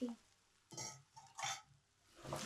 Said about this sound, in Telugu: ఈ టైంలో నేను చికెన్ వేసేస్తున్నాను.